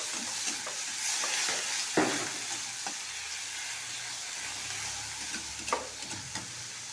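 Potatoes fry in a little mustard oil, a soft steady sizzle with scattered stirring clinks and scrapes against the pan, close up and with no talking.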